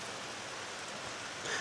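Steady rain falls throughout during a bike ride around Exeter in the UK, a dense, even hiss with a slight swell of spatter near the end.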